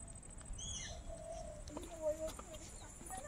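Chickens give a few short calls and clucks at a homestead in the Sundarbans, faint and scattered against low background noise, with a soft coo-like note in between.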